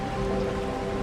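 Steady rainfall pours down in a continuous, even wash of drops, a moderately loud unbroken hiss with a faint low hum beneath and no voices.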